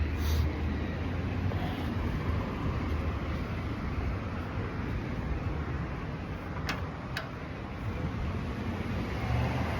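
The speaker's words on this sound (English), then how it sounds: "We out in traffic here." Steady road traffic rumble with vehicles passing, a continuous broad wash of engine and tire noise with no voices.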